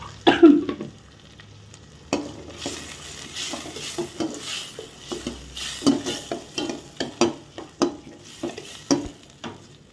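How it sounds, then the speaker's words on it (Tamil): Tomatoes and onions sautéing in a pan, with a soft sizzle and repeated spoon stirring and clinks, close, plus an occasional cough in the background. "நல்லா வதங்கட்டும் தக்காளி பழம்"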